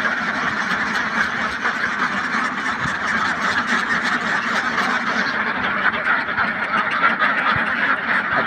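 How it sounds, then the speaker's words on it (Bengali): A flock of ducks quacks continuously nearby, many overlapping calls forming a dense, steady chorus outdoors. "হাঁস দেখতে অনেক সুন্দর লাগতেছে"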